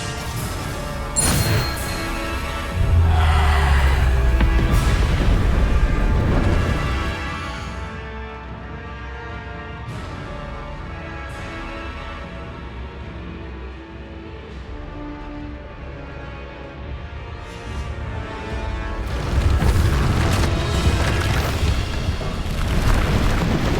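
Bombarda blasting spell in Hogwarts Legacy bursting with a deep booming explosion followed by rumbling debris and a fading low roar, then another heavy blast near the end.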